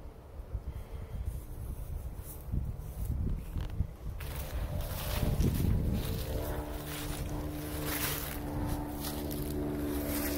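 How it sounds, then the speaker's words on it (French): Wind rising on a mountain, gusting and buffeting the microphone, building from a lighter rush into a louder, sustained roar with a low droning tone beneath. "Le vent se lève, la température se refroidit."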